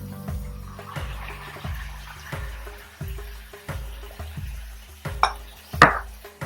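Spoon stirring tomato puree into onions in a pan for shakshouka, a repeated rhythm of scraping strokes and soft knocks about every half second, close and fairly quiet, with a couple of sharper clinks near the end.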